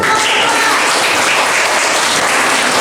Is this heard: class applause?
yes